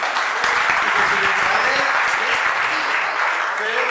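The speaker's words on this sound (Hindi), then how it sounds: "इस बात के लिए ताली बजाइए।" An audience at a student interaction session breaks into loud sustained applause, dense clapping throughout with some voices mixed in.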